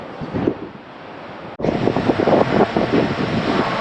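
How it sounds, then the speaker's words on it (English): Strong coastal wind around Lucky Bay on the Australian coast buffets the microphone in loud, gusty rumbles, with a brief cut partway through and surf-like noise beneath, no talking. "It's very windy"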